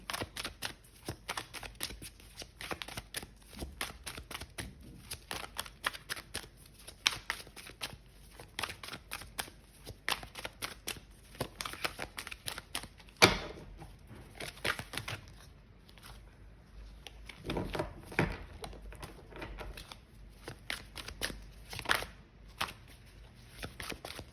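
Tarot cards being shuffled by hand during a reading, a dense run of quick papery riffles and soft clicks with a few sharper snaps, close up and continuous with no speech.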